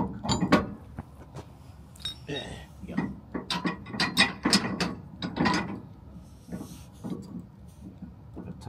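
A ratchet tightens down a trailer hitch shackle on a receiver with a D-ring on a 2020 Chevy Silverado. It gives repeated close, loud bursts of clicking, pausing briefly between strokes, with no talk over them.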